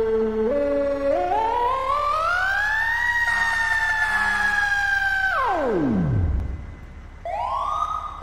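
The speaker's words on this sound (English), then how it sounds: "Okay, so this only has a Q siren." A fire engine's Q siren in the video game EmergeNYC winds up in a rising mechanical wail, holds at a loud steady pitch, then spins down low before a brief restart, alone with no talk.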